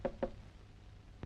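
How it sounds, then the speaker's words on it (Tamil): Knocking on a door at night, two quick close knocks in succession, a pause, then a third knock, all dull and fairly loud against a quiet room. "இந்த நேரத்துல இப்படி யார் கதவு தட்டுறாங்க?"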